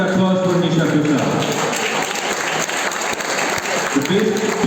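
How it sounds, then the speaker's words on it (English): A college audience at a speaking competition bursts into loud, continuous applause for the best speaker, with a voice audible at the start and end of the clapping. "Can we have a huge round of applause for Nisha Prasad?"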